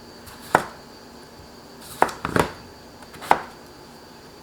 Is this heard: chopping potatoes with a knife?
yes